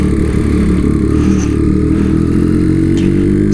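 A Triumph Daytona 675R motorcycle engine and exhaust run loud and close, a steady deep throbbing idle with a rough mechanical rumble that holds evenly throughout.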